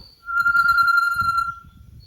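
A small bird in the forest gives one clear, sustained whistled note lasting just over a second. Soft low murmuring and rustle sound beneath it.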